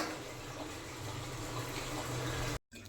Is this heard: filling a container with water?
yes